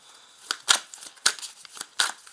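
A deck of Marseille tarot cards is cut and handled up close, giving a quick series of crisp papery snaps and flicks with short gaps between them.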